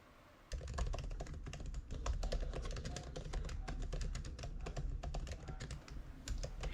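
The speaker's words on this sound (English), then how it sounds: "This is the famous butterfly keyboard in Apple MacBooks." Fingers type steadily on the butterfly keyboard of an Apple MacBook, a fast, continuous run of crisp, shallow clicks after a brief quiet start.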